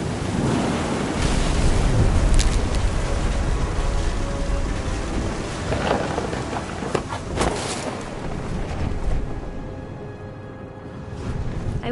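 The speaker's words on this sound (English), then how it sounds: "Thunder sounded much too close and full of angry power." A thunderstorm with rain and wind from the game What Remains of Edith Finch: a dense, steady rush of downpour with low rumbles and a few sharper bursts, no voices.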